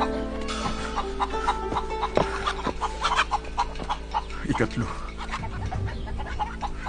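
Chickens cluck and squawk inside a chicken coop, a busy chorus of overlapping calls at moderate distance beneath a dubbed voice that speaks briefly over the steady background.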